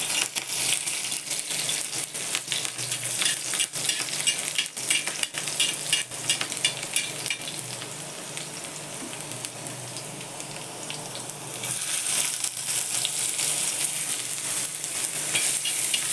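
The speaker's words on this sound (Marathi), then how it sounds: "कांदा परतू देते" Onion sautés in a hot pan with chopped garlic and green chili, a dense, steady sizzle with scraping stir strokes that runs on continuously without any talking.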